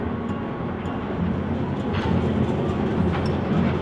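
A tram passes through a street in Christchurch, a steady loud rolling rumble with faint rattles and clicks, heard close by and alone.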